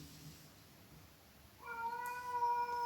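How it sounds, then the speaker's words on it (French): A house cat scuffling with something, starting with quiet rustling and then breaking into a loud, drawn-out yowling meow up close. "j'ai mon chat qui se bagarre avec je ne sais quoi"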